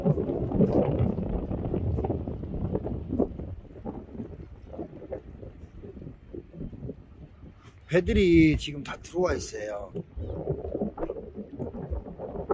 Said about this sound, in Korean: 오늘 바람 많이 불고.